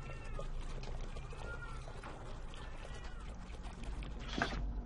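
Within a horror video game, a cat lets out a few quiet, distant meows, with one slightly sharper cry near the end, all over a murky low hum.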